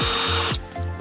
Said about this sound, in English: So we're going to go ahead and take our drill.